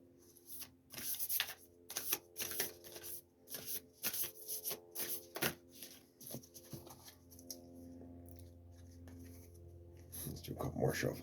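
Cards are shuffled in repeated short riffling bursts, close up, with a soft steady hum underneath and brief pauses between shuffles.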